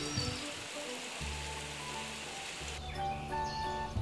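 Steady rain falls across farm fields in Konkan rice country during the monsoon, a continuous broadband hiss of drops with faint bird calls and low rumbling underneath, holding even throughout.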